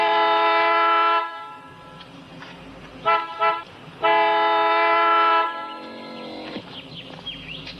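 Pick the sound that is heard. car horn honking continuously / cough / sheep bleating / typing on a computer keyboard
car horn honking continuously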